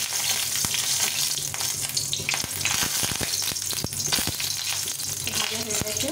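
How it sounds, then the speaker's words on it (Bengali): Two dried red chillies frying in hot oil before bitter gourd is cooked, a dense crackling sizzle close up, with sharp pops and a few stirring taps throughout. "তেল দিয়ে আমি লঙ্কাটা ভেজে নেব।"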